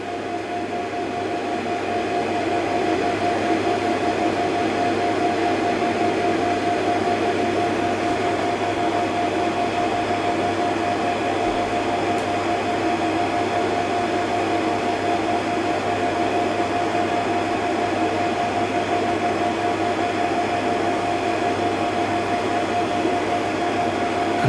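35mm slide projectors in a Convar dissolve system running together: a steady mechanical drone with fan whir and a constant low hum, unchanging throughout.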